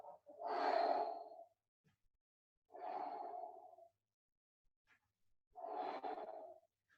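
Three long, slow breaths pushed out during a seated stretch on the heels with hands on the floor, as part of a home fencing workout, each a breathy whoosh separated by quiet pauses, close to the microphone.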